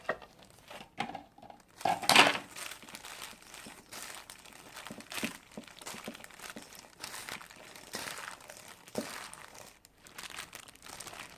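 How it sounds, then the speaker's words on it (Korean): Squeezed dried radish strips tossed with Korean chili powder, close crinkly rustling and soft squelching as the strips are worked by hand, with a sharper crackle early on. "한 두 국자 반 정도 놓고 골고루 묻혀서 고춧가루를 무말랭이 입혔습니다."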